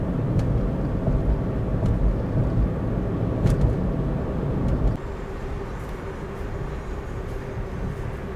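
A 2012 Mitsubishi i-MiEV electric car rolling along a road at about 44 km/h, heard from inside as a steady loud tyre and road rumble with wind noise that drops in level partway through.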